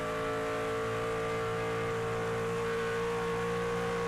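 A sim race car engine at Auto Club Speedway, Fontana, drones steadily as the driver lifts off the throttle through a turn, a constant buzzing tone without a pause.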